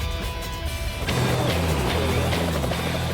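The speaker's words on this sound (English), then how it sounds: "a helicopter lifts off from a desert airbase" A helicopter at a desert airbase lifting off, its engine and rotor building from a lower whine into a loud, steady mechanical roar after the first second, close and alone.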